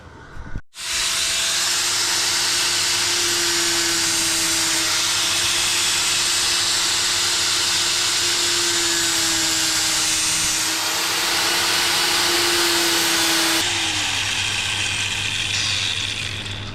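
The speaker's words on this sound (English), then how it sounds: "Obviously the grinder creates a lot of marks in the surface." A bench grinder shaping a .50 calibre bullet into a key ring, running as a loud, steady whine and hiss with a constant humming tone for most of the clip, the pitch shifting slightly near the end.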